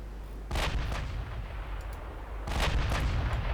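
Heavy naval gunfire in the warship battle game Ultimate Admiral Dreadnoughts, with battlecruisers trading shots: two loud booming salvos, one at the start and another near the end, each rolling into a sustained rumble with no talk.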